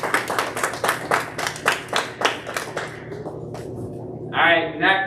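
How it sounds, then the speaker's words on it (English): Clapping from spectators at a swim meet awards ceremony, about eight firm claps in a steady rhythm that fade out, followed by a brief voice. "Give a round of applause for these 3 swimmers here."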